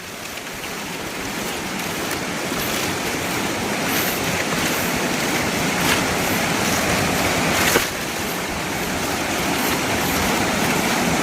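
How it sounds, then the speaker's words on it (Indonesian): A forest waterfall roars as a steady, broadband rush of falling water, continuous and fairly close, with no talk over it. "di situ ada air terjun"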